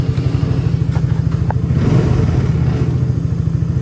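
A Hammerhead R-150 side-by-side's small engine runs loud and close after a carburetor replacement, a steady rapid thumping idle with a brief rev in the middle.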